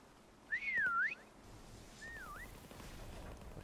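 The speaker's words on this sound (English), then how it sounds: "This dude's waiting for the whistle." A rising and falling whistle from a prop in Call of Duty WWII Prop Hunt sounds once loud and clear, then a fainter second whistle follows over quiet game background noise.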